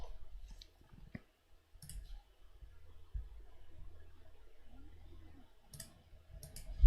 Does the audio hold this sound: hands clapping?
no